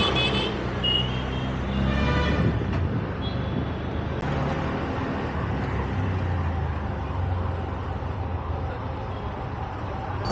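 A car speeds through busy Bangalore traffic, with a steady roar of engines and road noise, passing buses and trucks, and scattered horn toots.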